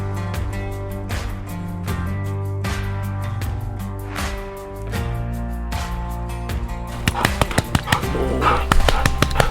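A hound bays at a raccoon treed up a leaning tree, its howls and barks carrying loudly alongside other dogs, the barks growing sharper and quicker toward the end.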